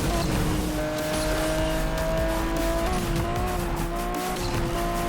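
A race car in Asphalt 8 spins out with sustained tire squeal over a steady, loud engine drone that holds for several seconds without a break.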